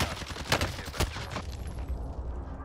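Precision airstrike in Call of Duty: Warzone: a rapid cluster of sharp, loud impacts bursting in quick succession at the start, then fading into a softer rumbling tail.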